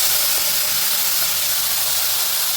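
Ground mint paste drops into hot tempering oil in a pan, raising a loud, even hiss and sizzle that holds steady throughout with no talking.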